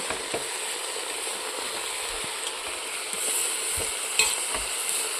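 A spoon stirring millet kichadi with drumstick leaves in a hot pan, soft repeated scraping strokes over a steady sizzle, close and alone without speech.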